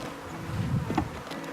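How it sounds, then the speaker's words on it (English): A mass of honey bees is shaken down onto a hive frame, giving a close, dense buzzing hum that rises briefly and then settles. "and then you will dump the bees"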